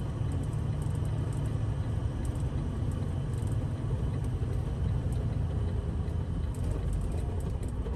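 A semi truck hauling 52,000 pounds rumbles steadily from inside the cab as it works through its gears in an industrial area, a continuous loud, low engine drone with no clear breaks.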